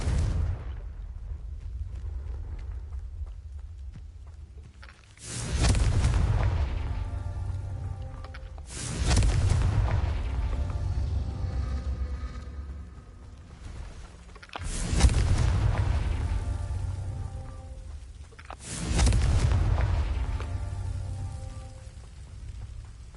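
Four heavy booming blasts of the Confringo blasting spell in a Harry Potter video game, each a sudden loud burst with a long rumbling decay, spaced several seconds apart.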